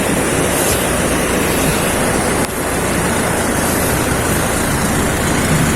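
Swollen river rising after heavy flow in Santo Cristo, Angat, Bulacan: a loud, continuous broadband rush of fast water, unbroken for the whole stretch with no talk over it.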